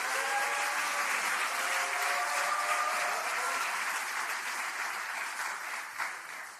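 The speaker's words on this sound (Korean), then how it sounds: "이재명 당대표님께 다시 한번 뜨거운 응원의 박수 부탁드리겠습니다" Party members at a Democratic Party gathering applaud their leader with sustained, dense clapping that holds steady and then gradually thins out, with faint voices beneath.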